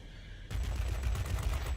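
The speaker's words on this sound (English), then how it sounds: "You can see how powerful these cannons are" In World of Warplanes, an Ilyushin IL-40P attack aircraft's cannons open fire, a sudden burst of rapid, continuous fire after a quiet hum that roars on as a dense, loud rattle.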